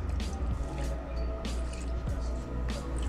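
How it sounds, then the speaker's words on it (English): Water drips and splashes while a pH meter is rinsed clean before testing diluted liquid soap, with irregular small drops and squishy wet sounds running steadily over a constant background hum. "And I think I have to rinse my pH meter."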